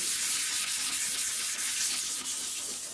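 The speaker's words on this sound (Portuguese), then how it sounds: "Agora eu vou aplicar aqui uma lixa 320." Wet sanding of a yellowed car headlight lens with 320-grit sandpaper, a steady close hiss of abrasive rubbing back and forth continuously with no talk.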